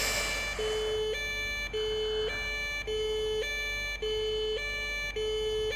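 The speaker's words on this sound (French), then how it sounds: "On active la sirène et on détermine le trajet." An ambulance siren in the PS5 game A Paramedic Simulator wails in a steady two-tone alternation, cycling evenly high and low about every second, loud and continuous over a low engine hum.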